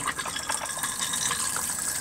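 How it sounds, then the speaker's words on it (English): Flush of a cassette toilet in a new Dethleffs Trend motorhome, a steady close rush of running water lasting about two seconds with no talk. "We've the wee blue button underneath the window for your flush"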